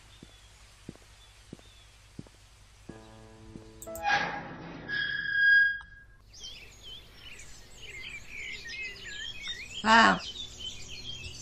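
Birdsong in the video game The Painscreek Killings: chirping tweets and trilling calls in the background, after footsteps and a brief exclamation, with a louder call near the end.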